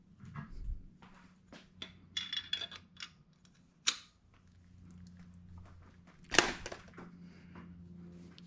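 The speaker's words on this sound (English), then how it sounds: "take a 11mm and just push that new valve seal in until I feel it" A new valve seal is pushed by hand onto a valve of a Honda B18C1 Integra head with an 11mm socket. Sparse metallic taps and scrapes build to a sharp click, close and fairly quiet, with no talking.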